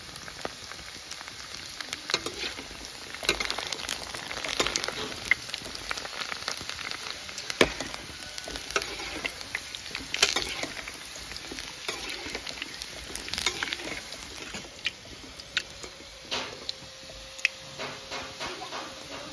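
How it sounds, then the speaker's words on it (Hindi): Puris for golgappa fry in hot oil, a dense steady sizzle with crackling pops spread across the whole stretch, close and continuous with no talk. "ये जो बाकी पूरी है इनको हम अच्छे से पहले फ्राई कर लेंगे सभी को।"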